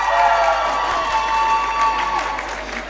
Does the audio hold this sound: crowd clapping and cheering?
yes